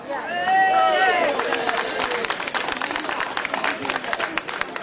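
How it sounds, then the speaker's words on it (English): Outdoor crowd at an NHS march rally in Wakefield breaks into applause, a burst of clapping and cheering under a voice at the start, then scattered claps continuing. "That's definitely worthy of applause"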